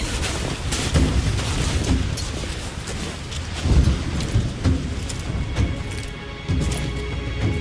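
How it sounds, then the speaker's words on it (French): Game audio from Rise of the Tomb Raider of an approaching thunderstorm, with steady heavy rain and repeated low thunder rumbles swelling near the start, middle and end, with no voices. "La tempête se rapproche."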